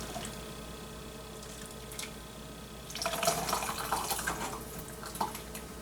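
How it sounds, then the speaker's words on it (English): Turkey broth pours through a strainer with a wet splashing gush that starts partway through, after a quieter stretch, and keeps trickling and dripping at close range. "I'm using the strainer because I want to catch all the little bits of bone and things that we do not want in our soup."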